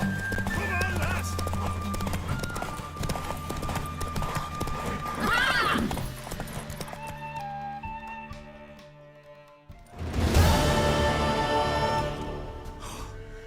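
In the Witcher 3 video game, a horse's hooves clop and thud amid neighs and whinnies, close and fairly loud, with game music and a voice heard over them.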